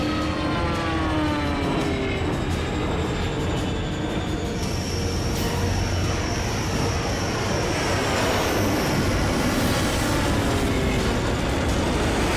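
Bomber aircraft fly overhead in a sci-fi action movie battle, a loud, continuous engine drone and roar with shifting pitch sweeps that fill the whole stretch without speech.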